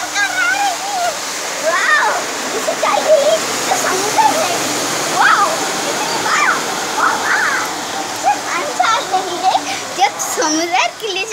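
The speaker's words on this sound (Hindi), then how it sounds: "कार देखिए कि कार कैसा पानी पर जा रही है" A car drives through water on a flooded city road in Cuttack, with a constant rushing, splashing wash of water. Children's voices chatter loudly over it.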